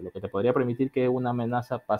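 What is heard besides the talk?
No everyday noise stands out behind the speech.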